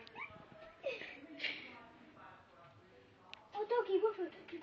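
A dog gives brief whimpers and yips close by, mixed in with people talking.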